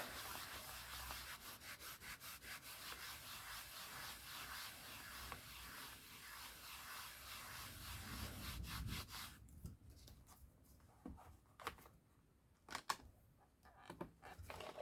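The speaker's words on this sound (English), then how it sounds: "Just going to remove a bit of the excess ink. And look at that. Rub." Excess ink being rubbed off by hand, a rapid rhythmic scrubbing that runs steadily for about nine seconds, then breaks into a few scattered rubs and clicks, close and fairly quiet with no talk.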